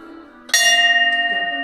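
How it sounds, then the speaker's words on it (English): A single bell at a maritime museum struck once, ringing out loud and clear with a long, bright sustained tone that slowly fades. "Can I ring the bell?"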